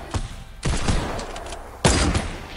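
A Fortnite sniper rifle fires loud, sharp shots: a faint crack first, then two heavy booming reports about a second apart, each trailing off with a short echo.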